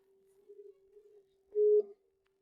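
A telephone busy signal plays as a thin, steady mid-pitched tone, faint at first, then briefly louder before cutting back, heard alone on a quiet line.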